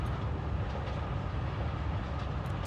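A train in the video game Forgotton Anne gives off a steady, dense rumble that fills the whole clip at an even level.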